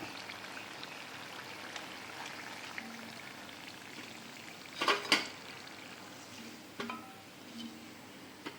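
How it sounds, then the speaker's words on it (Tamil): Urad dal murukku deep-frying in hot oil gives a faint, steady sizzle and bubbling, broken midway by a couple of sharp utensil clinks and a later soft knock. "எண்ணெய் பார்த்தீங்கன்னா அந்த சலசலப்பு அடங்கினதுமே நம்ம எடுக்க வேண்டியது தான்"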